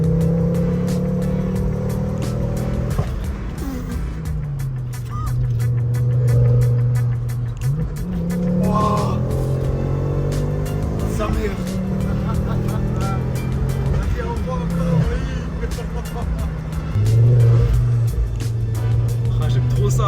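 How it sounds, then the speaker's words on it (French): A Ford RS car accelerates hard through rapid gear shifts, its engine note climbing and dropping repeatedly with each change, loud and close from inside the car, while people talk excitedly over it. "Oh les passages de vitesse incroyables les gars."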